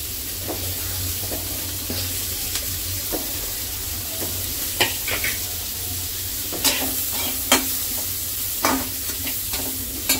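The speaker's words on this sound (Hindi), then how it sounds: "अब ये गर्म हो गया है, हम इसमें कर लेते हैं अपने प्याज को अच्छे से सॉटे।" Onions sauté in hot butter in a pan with a constant close sizzle, broken by occasional scrapes and clicks of stirring.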